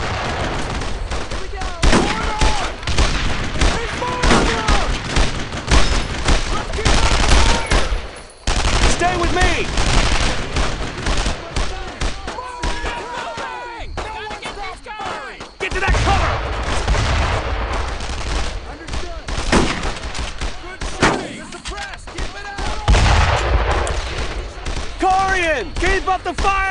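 Heavy sustained gunfire in the World War II shooter Brothers in Arms: Road to Hill 30, with dense overlapping machine-gun bursts and rifle shots, occasional booms, and shouted voices mixed in, loud and continuous throughout.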